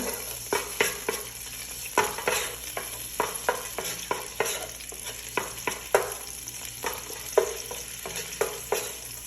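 Garlic fries in olive oil while being mixed: a constant crackling sizzle broken by repeated clacks and scrapes of a utensil stirring the pan, close and busy, with no one talking.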